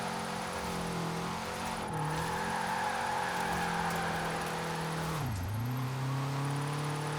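A BMW 2002 Turbo engine drones steadily while the car drifts in Forza Horizon 4, its revs holding, then dipping and climbing again twice, with tire and wind noise beneath.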